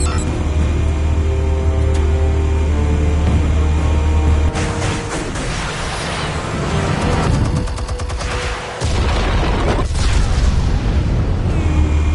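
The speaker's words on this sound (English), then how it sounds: "Explosives armed. Fire when ready." Explosives detonate in the Batman: The Telltale Series video game, a heavy sustained boom followed by crackling blasts and debris rumble, then a second burst of explosions near the end.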